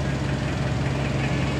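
A car engine struggles and sputters while being towed out of the flooded Pasig River near Esplanade, a loud close rough rumble with knocking pulses and heavy low vibration, no talk.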